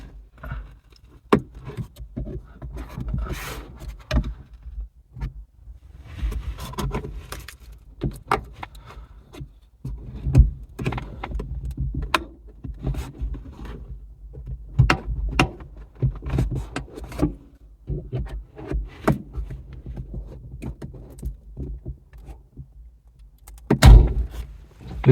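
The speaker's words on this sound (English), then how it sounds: "plastic panel removal tool and gently pry" A plastic panel removal tool pries at the map light panel inside a Toyota Auris, giving scattered clicks, creaks and taps of stiff plastic clips. A sharp, loud snap comes near the end as a clip releases.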